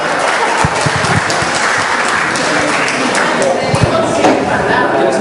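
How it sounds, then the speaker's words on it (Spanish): Applause from a church congregation, a dense steady wash of clapping throughout with scattered louder claps and a few voices mixed in. "Un aplauso para ellos los dos."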